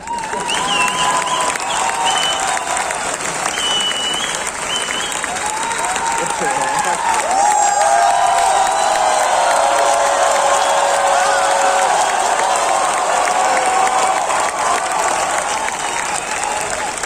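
Sustained audience applause at a speech event, a dense, loud wash of clapping from a large crowd with faint cheering and voices mixed in, continuing steadily throughout.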